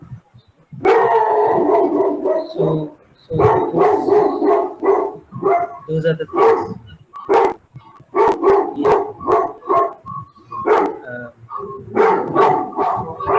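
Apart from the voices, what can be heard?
dog barking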